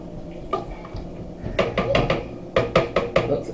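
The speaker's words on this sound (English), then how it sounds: "We're just going to stir it up, get it all mixed in" A spoon clinks and scrapes against a pot of lasagna soup, a few soft taps at first and then a quick series of sharper knocks and scrapes near the end, close and fairly loud with no talking.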